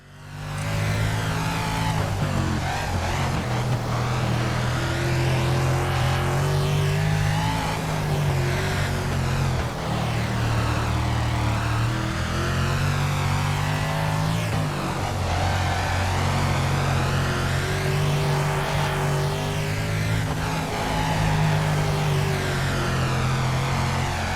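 Engines of dirt-track race cars in the World of Outlaws video game roar continuously, revving and shifting pitch as they speed around a track, loud and steady with no voices.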